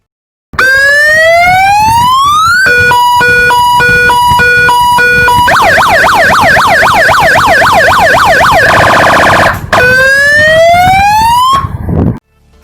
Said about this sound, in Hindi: अभी मैं आपको चलता हूँ इस 4 ट्यून सायरन की जो है साउंड चेक करवाता हूँ